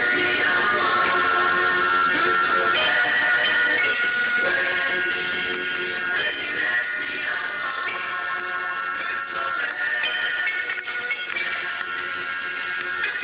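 A 1967 song plays continuously as a full band mix over AM-style radio with a narrow, slightly muffled sound and no talk over it.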